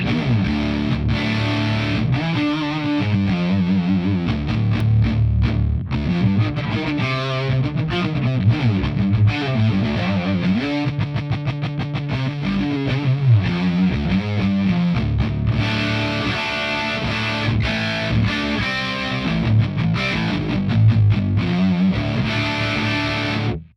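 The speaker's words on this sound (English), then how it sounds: "I really like the sound of this amplifier. I really like how it's really fuzzy, crunchy sound." Heavily distorted electric guitar plays chugging riffs and chords through a fuzzy, crunchy 70s-style amplifier, loud and continuous, with no talking.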